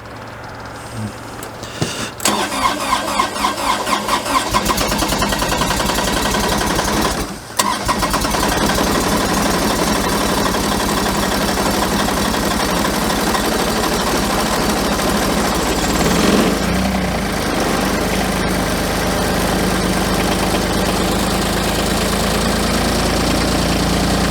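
Kubota diesel engine cold starting at -30 Celsius, cranking with rapid rhythmic pulses, then firing and settling into a loud, steady close-up idle that continues to the end with a brief surge midway.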